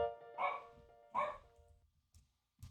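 A dog barks twice in quick succession, two sharp, close, fairly loud woofs about three-quarters of a second apart, followed by a couple of faint, brief rustles in an otherwise quiet room.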